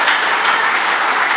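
College students in an audience clap steadily and densely, a continuous wash of applause filling the whole short stretch at an even level.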